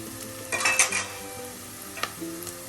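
A spoon stirs turmeric powder into softened, sautéed onions in a pan, scraping and clinking in a few bursts over a low, steady sizzle, with no talking.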